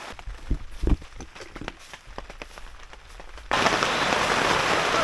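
Scattered heavy drops tap on a tarp wall tent, then a torrential downpour suddenly starts drumming in a dense, steady roar.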